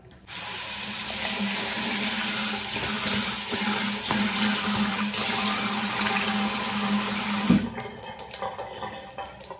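Tap water running steadily into a sink while a face is washed with foaming cleanser, a close, even rushing splash for about seven seconds before the flow cuts off, followed by faint drips and handling noises.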